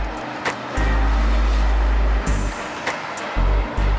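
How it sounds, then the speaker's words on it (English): A Ford Focus race car on a track drones past in loud sustained engine passes, the low rumble swelling and cutting off as cars go by, with brief sharp bursts between. "Yeah, that Focus is catching up."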